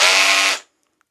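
A Parkside PABH 20-Li C3 cordless hammer drill running in hammer mode, giving a loud, close, dense buzzing whir that stops abruptly after about half a second, followed by silence.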